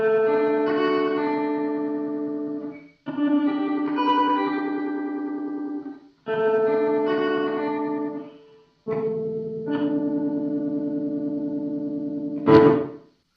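Electric guitar chords swell up from silence and cut off abruptly, four times in a row, each one a reversed-reverb bloom, ending with a sharp strum.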